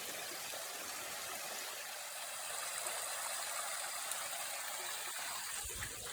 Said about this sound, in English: Check out this pretty waterfall that it ends up forming.